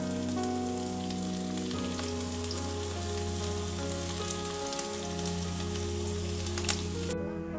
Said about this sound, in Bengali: তেল গরম হয়ে গিয়েছে, এখন পেঁয়াজ আর শুকনো মরিচ একটু লাল করে ভেজে নিব।